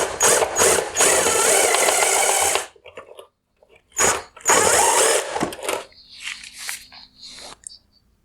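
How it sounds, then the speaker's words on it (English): A 6mm hex socket turns the adjuster on the back of a 2018–2021 Range Rover Sport OEM LED headlight, giving ratcheting mechanical bursts with short pauses and a quieter clicking stretch at the end. "Next, I'm going to use a 6mm hex head socket to turn this headlight adjuster on the rear of the light."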